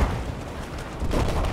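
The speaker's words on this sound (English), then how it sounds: "now fucking nuclear explosion" A nuclear explosion in Battlefield 4 gives a loud, sustained rumbling roar that swells again near the end, with no talk over it.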